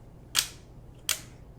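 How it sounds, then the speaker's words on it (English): Two crisp mechanical shutter clicks from a film camera, spaced under a second apart, sharp and close in an otherwise quiet room. "the camera makes this clicking noise"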